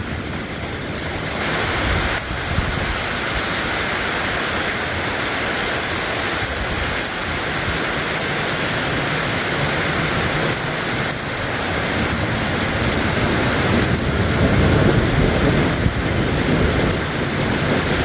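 A tornado roars during a spring storm outbreak, a loud, steady broadband rumble like heavy surf or a waterfall that holds for the full stretch and swells slightly toward the end, with no voices over it.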